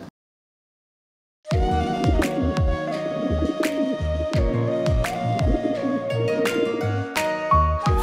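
A pet pigeon coos close by after a second of silence, with repeated soft, throaty rolling coos in a steady rhythm that run to the end.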